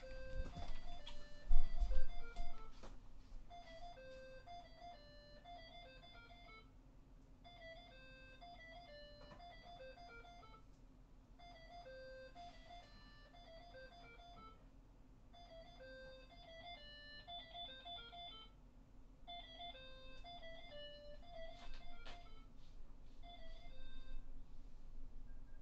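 A telephone in a Sonic Adventure DX video game rings over and over in a repeating melodic electronic pattern. It plays at steady volume for the whole stretch and is almost free of talk.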